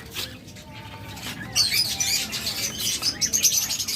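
King quails in a sale enclosure, giving sharp high squawks and chirps in quick irregular bursts, loudest in the second half, over a low murmur of background noise.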